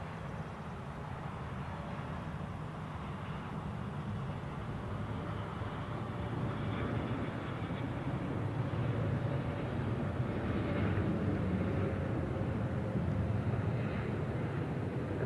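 A jet taking off at Zurich Airport sends out a steady, broad engine roar that swells gradually as the aircraft builds power, heard at a distance without voices.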